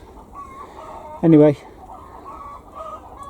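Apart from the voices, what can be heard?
chickens clucking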